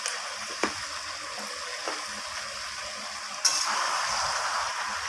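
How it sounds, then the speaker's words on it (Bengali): Mutton sautéing in a pan with a sprinkle of turmeric, for a papaya and goat-meat curry: a steady, close frying sizzle with a few sharp stirring clinks and scrapes, no talking. "আবারও আমি এইভাবে কষাতে থাকবো।"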